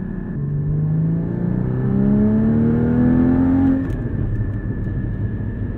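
A 2016 Porsche GT4 in sport mode with auto-blip, heard from inside the car on a rural road, its engine note climbing loudly and steadily in pitch, then dropping sharply as the driver lifts off or shifts.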